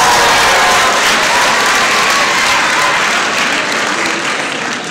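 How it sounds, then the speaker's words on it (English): Audience applause fills a school auditorium before a live Wushu martial arts performance, a dense, loud, sustained clapping that slowly fades toward the end. "Give us a round of applause!"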